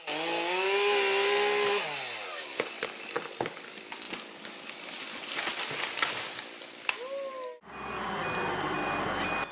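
A chainsaw roars and whines as it cuts through a tree in a forest logging setting, its engine pitch rising and dropping with scattered cracks of wood, then ends with an abrupt cut to a steady machine drone.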